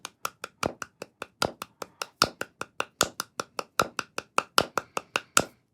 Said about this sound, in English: I don't know if I can clap 4, but let's see if it's possible.